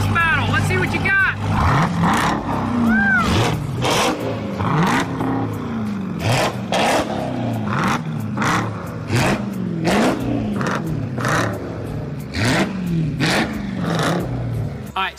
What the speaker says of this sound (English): Now let's do a little exhaust battle.